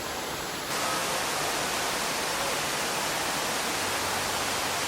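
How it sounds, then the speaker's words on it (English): A waterfall inside the tropical biome at the Eden Project in Cornwall, heard as a constant, dense rush of falling water that fills the space evenly and stays at a steady level throughout, with no voices. "We've spotted the waterfall."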